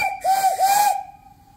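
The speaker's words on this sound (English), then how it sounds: "Blow the whistle." An antique steam engine boiler whistle blows a single loud, shrill blast with hissing steam, lasting about a second before fading out.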